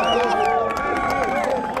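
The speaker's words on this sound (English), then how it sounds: "They shouted, cheered and hugged each other" A crowd outside a courthouse singing and cheering together, many voices in a loud sustained chorus with shouts mixed in, close and continuous.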